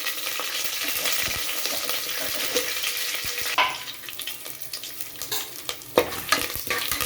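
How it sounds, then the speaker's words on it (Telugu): Fresh curry leaves hitting hot oil in a pan while cooking a potato, capsicum and bean stew, giving a continuous close sizzle and frying hiss with a few sharper crackles and spatters. "ఇప్పుడైతే పచ్చికరింపాకు వేస్తున్నాను."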